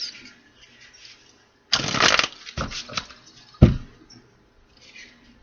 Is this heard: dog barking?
no